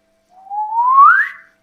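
A person imitates a slide whistle with a single whistled glide that rises smoothly in pitch over about a second, loud, close and alone with no talk around it.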